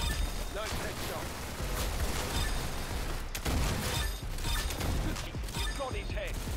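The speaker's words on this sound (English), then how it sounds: "Very good shooting." Rapid gunfire from the Roblox Arsenal shooter game, steady mechanical bursts and clatter running throughout, with a voice talking over the action at times.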